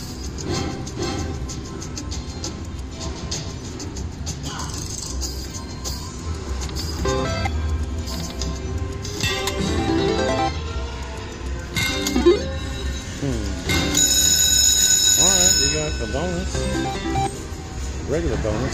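A train sound effect from a Cash Express slot machine plays amid casino machine jingles and chimes, rumbling and building toward the end, with a person talking over much of it.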